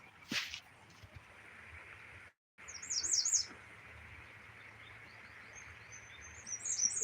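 Wild birds chirp in short, bright bursts of rapid tweets, a couple of quick phrases early on and more near the end, fairly faint over a low background hum.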